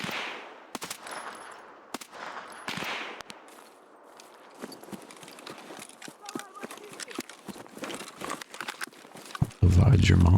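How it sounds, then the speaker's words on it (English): Escape from Tarkov gunfire, sharp isolated shots cracking at irregular intervals among footsteps and rustling, then a dense loud burst at the very end, with a player talking over it. "They keep shooting at my goddamn head"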